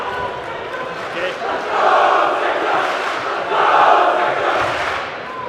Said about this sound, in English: the crowd's already loud here